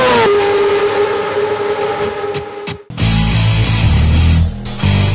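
A Yamaha R6 Supersport motorcycle on the Portimao race track holds a high steady engine whine, cuts briefly, then bursts back into a loud, close, rasping roar with rapid gear changes.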